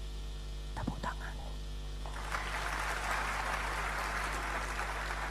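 Applause from a church congregation during a sermon, faint and distant, swells after a few seconds of quiet murmuring over a low electrical hum and continues steadily to the end.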